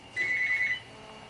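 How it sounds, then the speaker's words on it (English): A telephone rings in Twisted Metal: Black on PS2, a steady electronic trill held for about half a second at moderate loudness over low game rumble. "it's a damn phone!"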